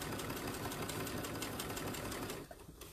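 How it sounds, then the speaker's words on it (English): A sewing machine stitching across a thick, multi-layered apron strap, a fast continuous mechanical whir up close that cuts off near the end, with no talking. "I'll sew across the strap, and again, it's a little bit thick at these parts because you have so many layers"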